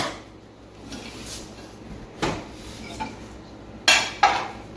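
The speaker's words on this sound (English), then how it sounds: "I'm very thankful for a dishwasher. Makes it very easy to do dishes." Dishes and cutlery clink and clatter while a dishwasher is unloaded aboard a trawler. Scattered sharp knocks and rattles sit close by over a quiet background, with a couple of brighter clanks near the end.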